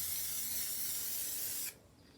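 A steady, loud aerosol hiss of Liquitex Professional Spray Varnish sprays continuously for almost two seconds, then cuts off abruptly, leaving quiet room tone.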